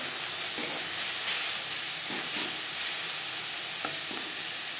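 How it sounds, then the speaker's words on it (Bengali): Carrot and cabbage stir-frying with spices in a pan over a medium flame, a steady loud sizzle and hiss with occasional soft clacks of a spatula stirring, close up and without any voice. "মশলার সাথে গাজর ও বাঁধাকপি বেশ ভালো করে মিক্স করে দেবো।"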